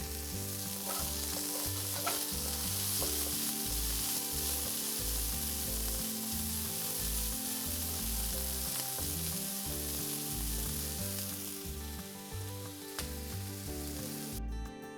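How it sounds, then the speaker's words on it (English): Onions sizzle and crackle in a hot pan for a spiced green bean dish, a dense continuous frying hiss heard up close with no talk. "we're going to wait for the onions to kind of get a little bit transparent"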